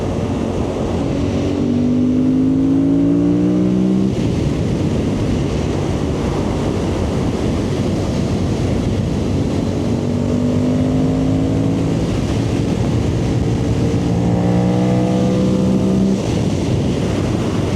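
A Suzuki GSX-8R motorcycle pulls hard through the gears, engine pitch rising in repeated sweeps with brief breaks between shifts, loud and continuous under strong wind rush.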